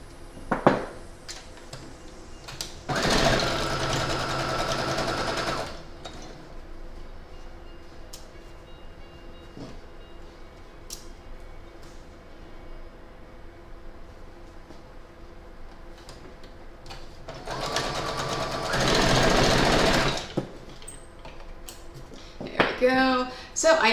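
A sewing machine stitching quilt pieces runs in two bursts of steady, close whirring, separated by quieter handling sounds and faint clicks in a home sewing setup.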